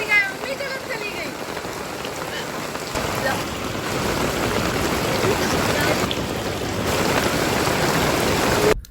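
Heavy monsoon rain pours down in a steady, dense hiss of drops on surfaces, swelling slightly partway through, with a faint voice at times beneath it.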